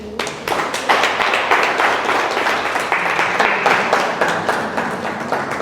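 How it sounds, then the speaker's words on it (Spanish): Congregation in a church clapping steadily together, a dense continuous patter of many hands sustained throughout at close range. "Fuerte aplauso."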